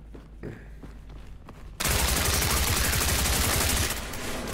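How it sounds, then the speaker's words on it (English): Sustained automatic gunfire in a horror-themed SCP video game bursts in abruptly after a quieter stretch of faint thuds and footsteps, then rattles loudly and continuously before easing slightly at the end. "There's gunfire from back there."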